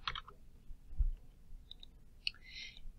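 A few sparse, light keyboard key clicks at close range, with short pauses between presses and a quiet background.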